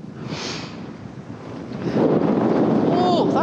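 Cold winter wind buffets the microphone during a horse ride in the woods, a steady rushing roar that grows louder and gustier toward the end.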